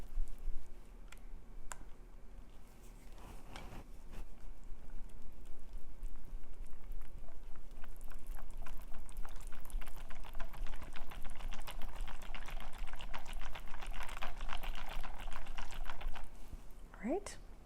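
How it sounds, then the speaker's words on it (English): Thick blueberry muffin batter of unsweetened whole milk yogurt and honey is stirred in a bowl, giving close, wet, rhythmic scraping and soft clicking that builds into a steady, busy texture through the middle and fades near the end. "Stir together."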